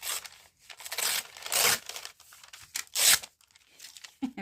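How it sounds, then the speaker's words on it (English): Paper being ripped in several short, crunchy tears with brief pauses between them, close up. "Not everybody loves the sound of ripping paper."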